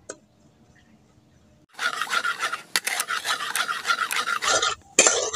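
Sugar melting in a pan being stirred for a homemade rice-based danadar sweet, heard as a steady scraping and rasping of the utensil against the pan after a quiet start, with a brief pause near the end before the scraping resumes.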